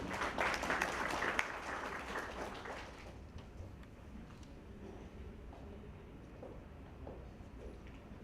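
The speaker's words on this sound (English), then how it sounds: "Can we have a big round of applause for Mr. Rajagopalan?" Applause from an audience at a retail business event in Mumbai, loudest in the first three seconds, then fading into a quieter, scattered clatter of claps and room noise.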